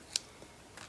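Scissors snipping crochet yarn, a single quick, faint close-up cut followed by softer handling sounds, alone in a quiet room.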